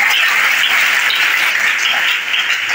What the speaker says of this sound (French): Est-ce que nous pouvons encore acclamer le Seigneur